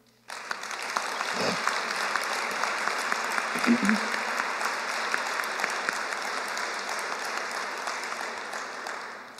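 An audience applauds steadily following an announcement of a new advanced manufacturing center in Gadsden, the dense clapping starting abruptly and holding at an even level throughout.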